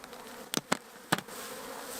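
Pure black honey bees buzzing close by, a continuous insect hum broken by a few sharp, brief knocks.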